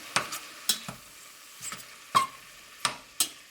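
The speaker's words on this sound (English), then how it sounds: "I'm going to go ahead and throw in half of this turkey" Ground turkey being stirred in a pot with onions, a soft sizzle under several sharp spatula scrapes and clacks spaced through the moment, fairly quiet and close, no talking.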